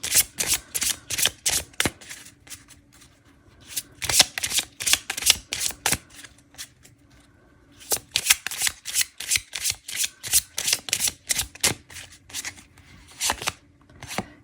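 A deck of tarot cards is shuffled by hand close up in bursts of crisp riffling flutters, with short pauses between rounds. It is loud and rhythmic with no talking.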